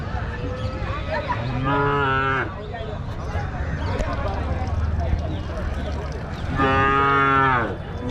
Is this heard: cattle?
yes